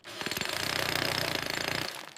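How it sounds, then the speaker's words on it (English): Jackhammer pounding at construction work, a loud, steady rapid hammering that runs for about two seconds with no talk. "J is for jackhammer."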